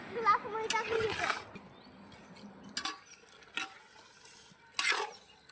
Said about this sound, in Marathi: आता सगळं जे आहे ते मिक्स करून घ्यायचं